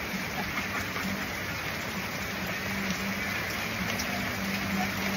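Steady rain falls during a storm, a continuous broadband wash of drops with no breaks, moderately loud and close, with no voices over it.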